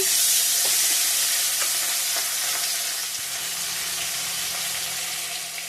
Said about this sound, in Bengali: ছোটো মাছগুলো আগে ভেজে নেব